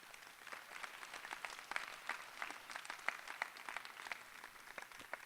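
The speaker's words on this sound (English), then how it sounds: "And I just want one more round of applause for all of y'all for coming out." A crowd applauds participants at a high school student race relations forum, dense steady clapping from many hands filling the room, with sharper individual claps standing out and no talk over it.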